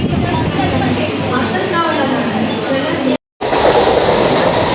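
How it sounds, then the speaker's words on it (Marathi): Continuous loud rumble and rattle of a moving Mumbai suburban train interior heading toward Thane, with a babble of voices, briefly cut off before resuming. "मी आता ट्रेनमध्ये प्रवास करते आहे"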